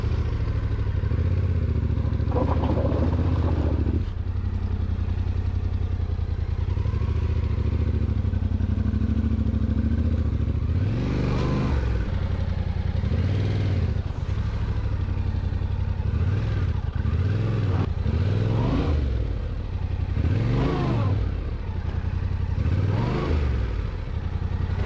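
A motorcycle works its way along a rough, steep Class IV dirt road in Vermont, the engine droning close and loud throughout with repeated throttle surges and revs as the bike climbs over obstacles, rattling and clattering over rocks.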